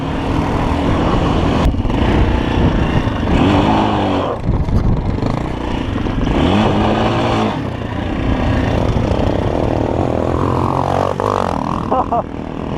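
A KOVI Advance 250 supermoto motorcycle engine revs loudly and rises in pitch nearby, with wind buffeting and a few voices briefly heard underneath.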